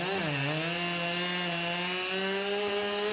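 A Husqvarna chainsaw cutting into a storm-damaged tree on a removal job, its engine whining at a steady high pitch after a brief dip in revs, loud and close with no talk.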